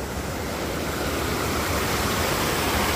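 Water flowing steadily along a wide stretch of Glacier Creek, a continuous broadband rush close to the microphone with no pauses or voices.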